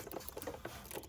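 Quarter-inch drive ratchet on an extension loosening an 8mm bolt while an intake VVT solenoid is replaced on a Chevy Equinox; faint, irregular light clicking and ticking in quick bursts.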